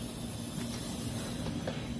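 A faint, steady hiss of refrigerant gas escaping from a valve on a ductless mini split air conditioner, constant and low in level, with a few soft clicks over a dull background hum.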